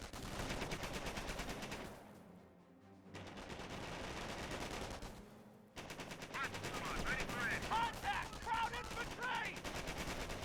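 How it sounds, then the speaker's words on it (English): MG42 machine gun fire in the game Company of Heroes, long rapid bursts with short gaps between them, heavy and continuous, with other battlefield gunfire and effects layered around it. "I hear MG42 firing away."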